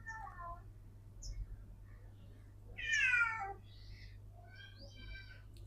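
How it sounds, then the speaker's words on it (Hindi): A black cat that comes to a family home to eat gives a few short, faint meows, with one louder, drawn-out meow in the middle over a low background hum. "सामने में आप बिल्ली देख पा रहे हो, ये रोज आता है हमारे घर खाना खाने के लिए, काला काला का बिल्ली"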